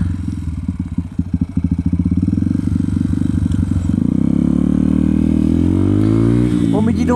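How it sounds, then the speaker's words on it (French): A small scooter engine runs loud and close with a steady buzzing drone, its pitch climbing as it accelerates past, while a voice talks over it. "Le petit scooter."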